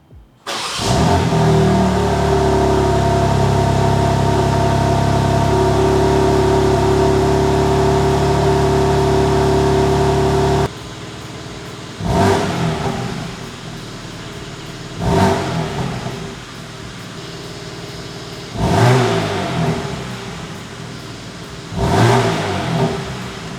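BMW M car engine cranking and catching, then a loud high idle that settles, followed by four sharp throttle blips rising and falling at regular intervals, close by.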